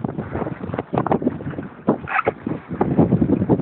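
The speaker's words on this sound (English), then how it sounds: "we're sailing really well." A sailboat under way on a foggy Lake Ontario, with gusty wind buffeting and rushing close up in uneven bursts.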